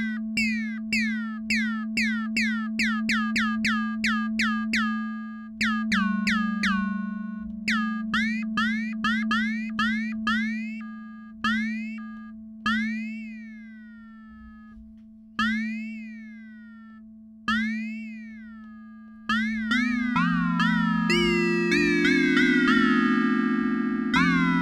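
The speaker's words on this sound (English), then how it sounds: "Like a crazy sci-fi piano we were able to make there very easily" A Bitwig Studio synth patch with a pitch envelope on its operators makes a crazy sci-fi piano sound, each struck note chirping downward in pitch and decaying over a steady low drone, with notes coming in irregular runs and ending in dense clusters.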